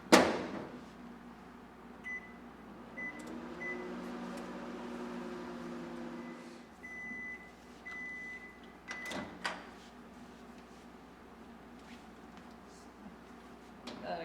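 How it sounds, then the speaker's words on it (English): Microwave oven running while heating agarose gel solution in a lab, a steady low hum with a soft fan whir, a brief clunk near the start and a faint beep or click later. "you're going to keep microwaving it for 15 to 30 seconds at a time until it's completely clear"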